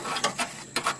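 A breaker bar on a socket loosens a stubborn, Liquid Wrench-sprayed blade nut on a Troy-Bilt Pony riding mower, producing three short, sharp metallic clicks in quick succession, close up.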